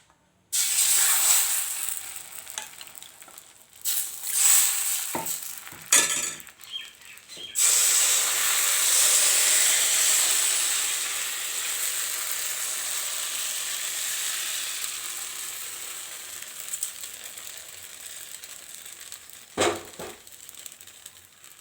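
Rice flour pitha batter hits a hot wok and sizzles loudly, a steady broad hiss with a few sharp breaks and clatters early on, fading slightly later.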